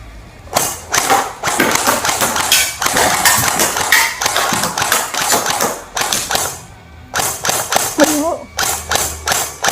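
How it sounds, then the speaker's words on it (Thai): A Golden Eagle 6689 electric toy sniper rifle fired in a field gives a run of sharp taps and thuds in quick bursts with short pauses, close and fairly loud, with voices now and then. "นี่คือลองยิงในสนามนะครับ"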